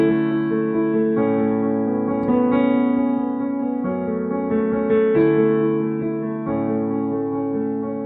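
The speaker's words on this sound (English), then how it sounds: "you want to play it with attack, because that's what makes the song a little bit livelier" An upright-sounding piano playing the intro of a song with firm attack, sustained chords and melody notes changing every second or so, steady and fairly loud with no talk.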